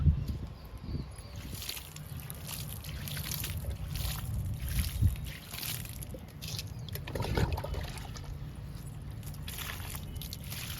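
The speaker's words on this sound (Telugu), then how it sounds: "ఈ 2 టబ్బులకి వాటర్ ఇద్దాము." Water trickles and pours steadily into tubs of freshly planted tomato seedlings outdoors, a soft continuous splashing and dribbling close by with faint background noise.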